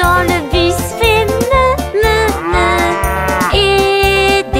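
A singing voice imitates a cow's moo in a French children's bus song, with repeated drawn-out notes over a bouncy, rhythmic musical backing.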